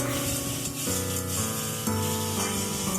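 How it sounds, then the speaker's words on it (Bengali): Vegetables sautéing with spices in a hot pan give a steady, dense sizzle with occasional stirring scrapes, underlaid by sustained musical tones. "এখন খুব ভালো করে মশলার সাথে সবজিটাকে কষিয়ে নিতে হবে"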